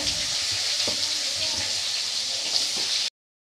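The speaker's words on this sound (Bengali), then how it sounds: "চিংড়ি মাছ ভাজার তেলটার মধ্যে আমি একটু ডুমো ডুমো করে আলু কেটে দিলাম। আলুটাকে ভালো করে লাল করে ভেজে নেব।" Diced potatoes fry in oil left over from frying prawns while prawn kalia is being made. A loud, even, close sizzle runs continuously and cuts off abruptly just after three seconds.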